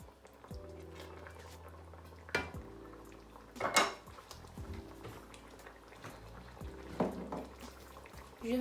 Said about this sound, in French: Il faut mélanger le tout, remuer un peu.